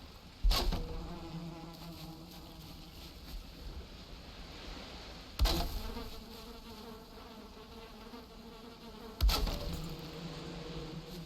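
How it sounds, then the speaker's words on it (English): Beehives in the Viking survival game Valheim give off a continuous, fairly quiet insect buzz, broken three times by sharp loud clicks or thumps that each decay over about a second. "And then we need to make sure our bees are happy again."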